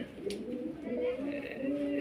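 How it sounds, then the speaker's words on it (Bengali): Soft, low pigeon cooing rolls on steadily, close by, with a faint murmur of voices in the background. "এই যে হলো কবুতর"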